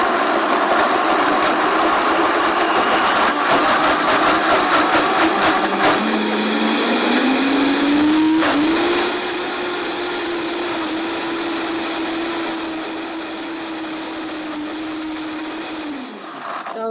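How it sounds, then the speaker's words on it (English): A countertop blender whirs steadily as it purées muhamara, its motor pitch climbing partway through as the mixture loosens, then holding a high, even whine before cutting out at the end; loud, close and continuous, with nobody talking. "We're gonna blend up our muhamara here."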